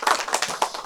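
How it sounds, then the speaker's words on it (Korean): A few separate claps, close and uneven, from a parents' session at a Korean high school, brief and sparse rather than full applause. "박수 한번 주시죠."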